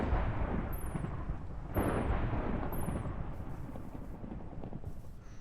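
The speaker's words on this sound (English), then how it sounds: "It does cause thunder." Rolling thunder in the Minecraft GTNH modpack, a long low rumble with a couple of sharper cracks filling the stretch, moderately loud and steady with faint chimes over it.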